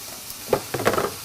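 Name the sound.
pork butt roast searing in oil with onions and prosciutto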